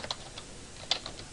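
Typing on a computer keyboard, with light, irregular key clicks spread across a short stretch, close but quiet, with no talk.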